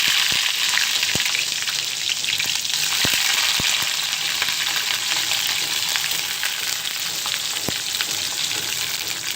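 Onion sizzling in hot oil with seasoning seeds while making a Malabar spinach fry: a steady, loud broadband frying hiss throughout, with occasional sharp pops and crackles, and no talking.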